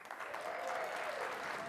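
Faint, steady applause from a corporate audience at a staged standing ovation, a soft continuous patter of many hands heard from a distance for under two seconds.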